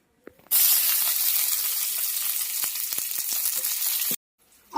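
Green chillies hitting a hot pan for a paneer curry, setting off a sudden loud burst of sizzling that holds steady for several seconds with crackling pops, then cuts off abruptly.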